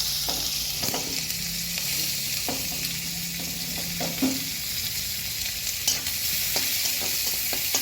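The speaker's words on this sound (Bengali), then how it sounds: "পেঁয়াজটা এখন ভাজা ভাজা করে দিলাম।" Onion and a torn bay leaf frying in hot oil, a steady close sizzle with scattered clinks and scrapes of a stirring spoon against the pan.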